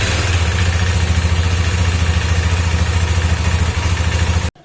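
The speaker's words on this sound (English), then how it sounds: "warm up the engine" A KTM 390 motorcycle engine idles while warming up, a loud, close, steady single-cylinder putter with a fast even pulse that stops abruptly at the end.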